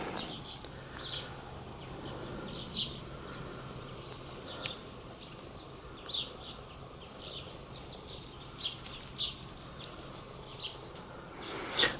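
Several small birds chirp and twitter faintly among the clematis climbing around a cottage wall, scattered high calls over a soft outdoor background hum with no one speaking.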